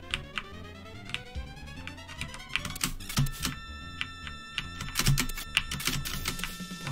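Rapid clicking of a computer keyboard picked up by a nearby microphone, irregular bursts of keystrokes over background game music during a playthrough of the game Zeliard.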